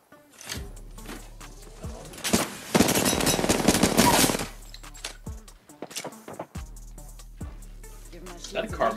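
Rapid automatic gunfire in an Apex Legends-style video game, one loud sustained burst in the middle with scattered single shots before and after, and game sounds running underneath.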